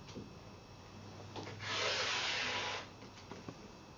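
A rotary cutter trims a fabric edge along a quilting ruler on a cutting mat, one steady close rasping stroke lasting about a second amid quiet handling sounds.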